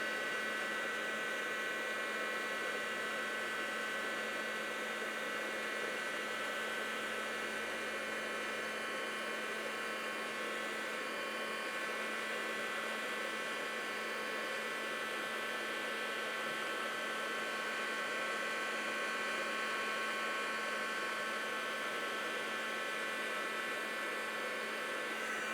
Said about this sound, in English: Let's just do a little heat embossing here.